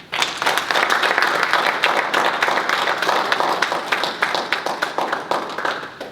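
An audience at a National Bar Association conference panel in Chicago bursts into applause, dense and loud from the start, holding steady for several seconds before thinning to scattered individual claps near the end.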